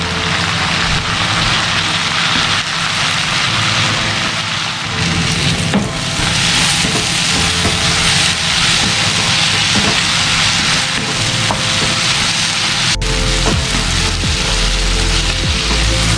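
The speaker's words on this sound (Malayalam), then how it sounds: "ഒരു തണ്ട് കറിവേപ്പിലയും കൂടെ ഇട്ട് കൊടുക്കുന്നുണ്ട്." Onions, crushed garlic and a sprig of curry leaves fry in a pan for a chicken ghee roast, giving a loud, steady, close sizzle that runs the whole time with no voices.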